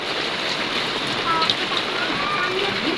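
Heavy summer rain pours down steadily, a dense, even hiss that fills the whole clip with no break and no voices over it.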